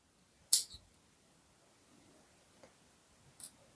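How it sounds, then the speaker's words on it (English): Scissors snip through sewing thread at the end of stitching a beginner felt donut, giving a crisp close click followed by a second faint snip a few seconds later in a quiet room. "Let's cut off our thread."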